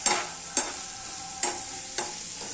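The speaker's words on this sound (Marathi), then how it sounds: "आणि आता हा कांदा चांगला ब्राऊन कलर येईपर्यंत भाजायचा आहे." Onion fries in a pan over a raised gas flame until brown, giving a continuous sizzle with four distinct scraping strokes of a spatula spaced about half a second apart, close and fairly loud, with no talking.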